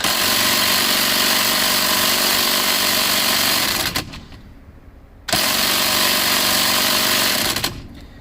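A loud impact gun hammers at the steering wheel bolt of a Mercedes W140 S500, two long sustained bursts broken by a short quieter pause.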